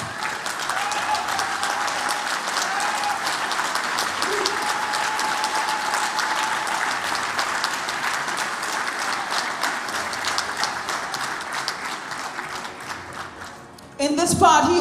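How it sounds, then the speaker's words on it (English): An audience at a PDP Trinidad party executive launch claps steadily for about fourteen seconds, a dense, even applause that swells louder at the very end as a voice cuts in. "please give her a round of applause."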